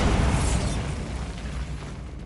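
A Bombarda spell blast in Hogwarts Legacy bursts as a loud, broad rumbling explosion that decays over a couple of seconds, with no voices over it.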